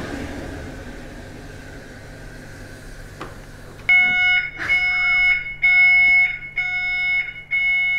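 A household smoke detector goes off after a quiet stretch, its shrill electronic beeps loud and close in repeated pulses with brief gaps.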